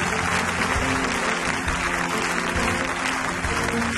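A church congregation applauds together, giving sustained, dense clapping that stays loud and even throughout the whole stretch.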